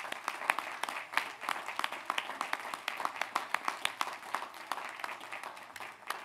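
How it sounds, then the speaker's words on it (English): A crowd at a commencement ceremony applauds steadily, dense overlapping clapping at moderate distance that holds for several seconds with a slight fade near the end. "So let's give them all a big round of applause"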